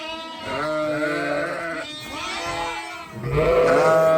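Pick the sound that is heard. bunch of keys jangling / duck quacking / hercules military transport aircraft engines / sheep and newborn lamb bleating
sheep and newborn lamb bleating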